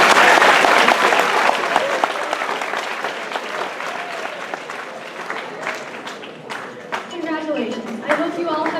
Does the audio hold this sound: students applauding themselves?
yes